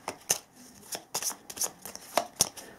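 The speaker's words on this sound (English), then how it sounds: "I need to shuffle my discard deck again." A discard deck of playing cards from the card game Wipers Salient is shuffled up close, giving a quick series of about nine sharp, papery riffle snaps with short pauses in between.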